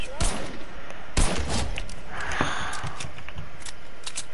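Gunfire in a team shooter video game, with sharp broadband shots clustered near the start and again around a second in, a fast burst over busy game noise and faint voices.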